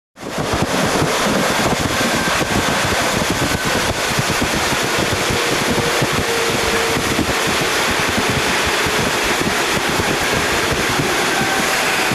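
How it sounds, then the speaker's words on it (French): A DR passenger train hauled by a locomotive rolls toward Halberstadt station in the Harz, giving a steady, loud rumble and rattle of wheels and carriages, with heavy wind buffeting the microphone throughout. "Notre train est tiré par la 414e. Nous arrivons à Halberstadt"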